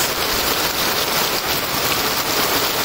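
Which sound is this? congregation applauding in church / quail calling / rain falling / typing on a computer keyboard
rain falling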